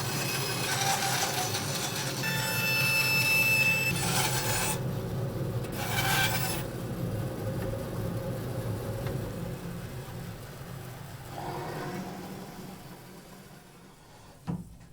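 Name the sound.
shaping a wooden hurl by sliding it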